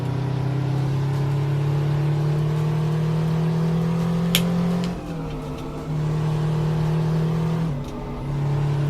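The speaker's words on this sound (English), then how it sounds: "Kind of like the sound of this engine." A Kenworth W521 truck engine in American Truck Simulator drones at high revs with a strong steady hum, dropping briefly twice as gears shift before climbing again, loud and close with no talk.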